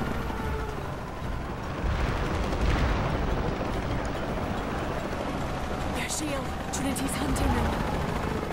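A helicopter drones continuously in Shadow of the Tomb Raider gameplay on a PS4 Slim, its rotor noise mixed with rumbling game effects. A player talks over it almost throughout.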